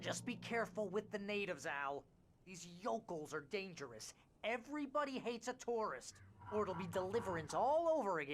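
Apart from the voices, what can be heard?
No distinct noise like a dog, phone or traffic.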